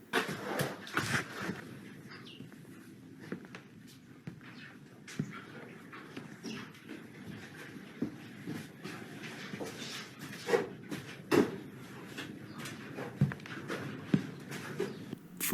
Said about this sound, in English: Footsteps are heard coming from within the barn, even though there's nobody else around.